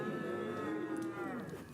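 Several young voices imitate a cow's moo together, a drawn-out lowing chorus that wavers and fades near the end.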